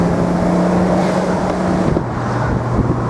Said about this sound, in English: Sounds lovely through the stainless steel exhaust.